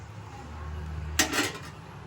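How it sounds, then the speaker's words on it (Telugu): A metal lid lands on a cooking pot of rice in boiling water with a brief clattering clank, preceded by quiet low kitchen rumble. "బియ్యం వేసేసుకుందాం ఒకసారి కలిపి మూత పెట్టేసుకుందాం"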